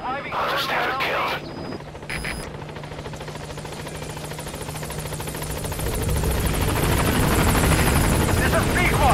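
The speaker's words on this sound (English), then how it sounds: "I'll send the extraction chopper" Rotor thump of an extraction helicopter in the video game Metal Gear Solid V builds steadily louder as it approaches, following a few short clicks and tones, with voices faintly present early on.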